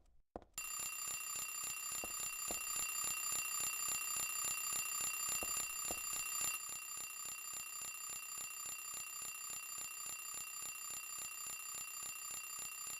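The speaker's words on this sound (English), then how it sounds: "Will you turn off the alarm?" An alarm clock in Silent Hill 3 rings on and on as a rapid, shrill metallic trill, loud and unbroken after a brief silent start, with no voices over it.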